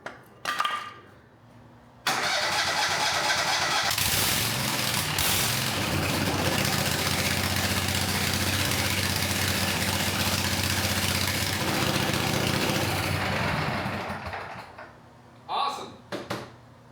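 A John Deere Z520A zero-turn mower engine, previously dead, cranks and catches, then runs steadily at idle for about ten seconds before shutting off. A few brief sounds come before and after the run.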